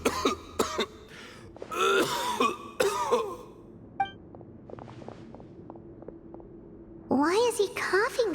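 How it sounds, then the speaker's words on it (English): A character in the game Genshin Impact coughs and clears his throat repeatedly in a run of harsh, close bursts, with other game speech around them. "Why is he coughing so much?"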